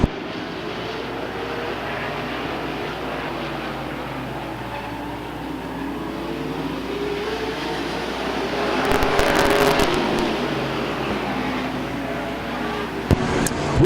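Race cars roar around the Stockton 99 Speedway oval in a continuous engine drone that swells as the pack passes nearby, with a brief sharp crackle near the end and no speech over it.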